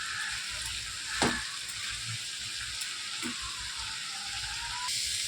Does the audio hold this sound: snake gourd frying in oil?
yes